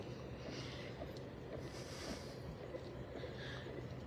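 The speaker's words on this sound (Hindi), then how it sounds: "झरने की आवाज आ रही है" Steady rushing water of a waterfall on a lightly rainy outing, a continuous broad wash of sound that stays even and moderately distant throughout.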